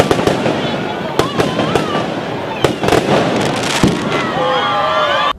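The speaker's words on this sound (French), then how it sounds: "Les bruits de pétards inondent la place de l'Indépendance en ce 24 décembre" Firecrackers and fireworks crack and pop in loud, irregular bursts over a festive crowd on Place de l'Indépendance on 24 December, with whistling rockets near the end.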